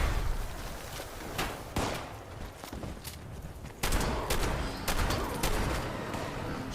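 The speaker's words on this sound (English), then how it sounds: "This guy's shooting rocket launchers at us." Rapid gunfire and heavy blasts rattle through a Fallout 76 firefight, with dense bursts and a sharp explosive impact midway, loud and close.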